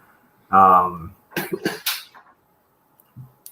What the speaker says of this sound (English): I actually coughed authentically